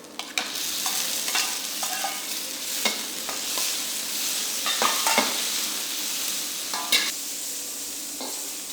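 Shrimp, garlic and the white parts of spring onion stir-frying in hot oil, a continuous close sizzle broken by repeated sharp scrapes and clacks of a utensil against the pan, with no voices.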